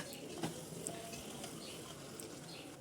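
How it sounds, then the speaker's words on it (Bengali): Broiler chicken pieces and potatoes are stir-fried together in a pan, a soft steady sizzle with occasional scraping and light clicks of stirring, faint and close. "আলুটা যখন নরম হয়ে আসবে তার মধ্যে ভেজে রাখা মাংস দিয়ে আবারও ভালো মতো কষাতে হবে"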